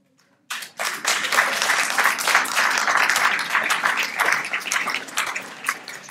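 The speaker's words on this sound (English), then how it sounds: "He's clapping right back at you." An audience bursts into sustained applause after a brief silence, dense overlapping clapping holding steady and close for several seconds before easing slightly at the end.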